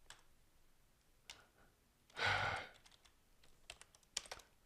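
Someone types on a computer keyboard: soft, irregular key clicks close by, with one louder clattering burst in the middle.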